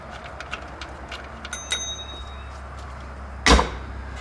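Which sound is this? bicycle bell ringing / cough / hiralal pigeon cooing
bicycle bell ringing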